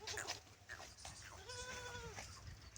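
A goat on a farm, a doe that recently gave birth, lets out a faint wavering bleat amid quiet outdoor background noise, with other soft farm sounds around it.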